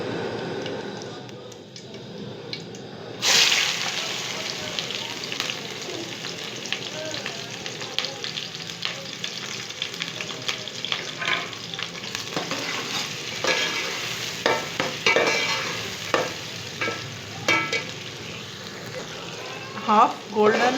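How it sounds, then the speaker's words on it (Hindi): Onions sizzle in hot oil for a fish curry, a dense steady frying hiss that jumps louder when they hit the pan, with occasional stirring scrapes and taps throughout. "तेल हमारा काफ़ी गर्म हो चुका है। अब इसी में मैं प्याज डालूंगी।"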